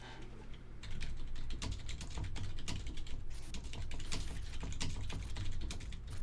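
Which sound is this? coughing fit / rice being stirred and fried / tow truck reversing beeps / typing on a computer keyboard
typing on a computer keyboard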